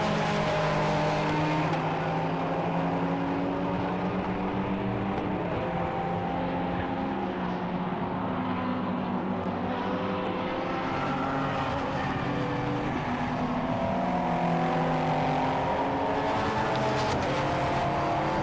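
Endurance race cars, including a Lamborghini, lap the Silverstone International circuit, their engines droning steadily and loud, with overlapping pitches rising and falling as cars pass throughout.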